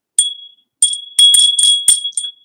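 A small bell rings sharply several times, bright metallic dings in quick clusters with short gaps, close and clear with no talking.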